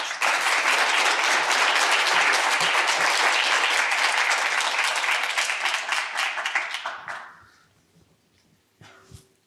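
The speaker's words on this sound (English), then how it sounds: "we're going to clap when they enter and we're going to clap when they go back" Audience at a university innovation showcase applauding as finalists walk on stage, loud dense clapping that holds steady for about seven seconds, then tapers off into a few scattered claps.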